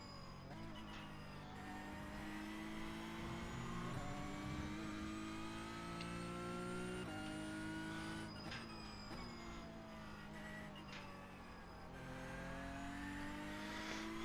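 A Porsche Cup race car in iRacing at Brands Hatch revs hard through repeated upshifts and downshifts, its engine note rising and dropping in steady waves, loud and continuous.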